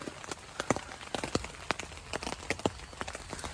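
Rain patters on a camping tent at night, with irregular sharp drops striking the fabric over a soft, hissing background wash, fairly quiet and close.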